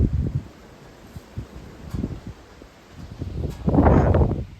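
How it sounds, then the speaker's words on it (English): Wind gusts outdoors buffet the microphone in uneven rumbling bursts, soft at first and building to a stronger roaring gust toward the end. "It's pretty windy out there."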